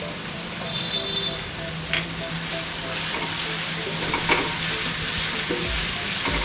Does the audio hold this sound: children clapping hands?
no